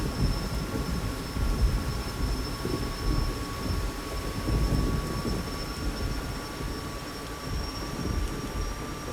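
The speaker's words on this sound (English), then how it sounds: "Gradually increase the fuel flow lever, until the RPM of the engine and the rotor synchronize on the RPM gauge." A Gazelle helicopter turbine engine spools up during a cold start in Sinai, a steady, even whine with two sustained high tones over a continuous broadband rumble, close and loud throughout.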